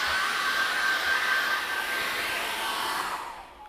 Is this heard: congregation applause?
no